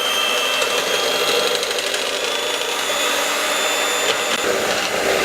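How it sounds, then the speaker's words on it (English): Margarine being whipped on a pie plate for xylitol fudge with a motorized beater, a loud, continuous whirring drone that holds steady the whole time with no talking. "I've put some margarine on a platter, a pie plate, and I'm going to start whipping"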